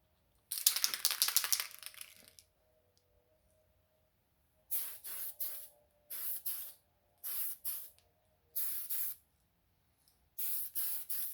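An aerosol can sprays a light first coat of paint onto a part of a Dodge L700 tilt-cab truck. A rattly hiss comes first, then a series of short, close bursts separated by silent gaps, with no voices.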